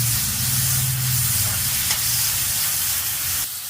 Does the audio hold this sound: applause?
no